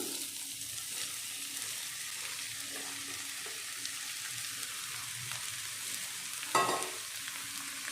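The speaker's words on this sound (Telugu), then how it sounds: "ఇప్పుడు మనము కట్ చేసుకున్న దొండకాయ పీసెస్ని వేసుకున్నాం." Cut ivy gourd pieces dropped into hot oil with curry leaves, green chilli and garlic give a continuous loud hiss and crackle, close and even, with one brief clatter near the end and no talking.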